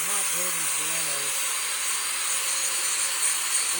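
A power tool grinds a lawnmower blade, a steady loud high-pitched hiss and whine throughout, with a voice briefly over the start.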